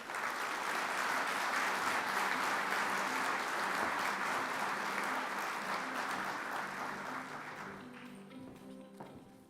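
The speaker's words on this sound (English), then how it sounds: "a big hand of applause" Audience applause fills the hall at the World Geothermal Congress opening ceremony, a dense, steady wash of clapping that tapers off toward the end, leaving a few scattered claps.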